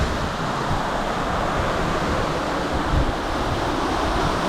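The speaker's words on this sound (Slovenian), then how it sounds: "Pa lepo šumi na veter." Steady broadband wind rushes around a sailing boat moving at about nine knots on open water, a constant close roar with slight surges and water wash beneath.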